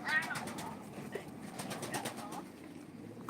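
Pigeons coo softly in a low murmur over a busy background, with some chatter and faint rustling nearby.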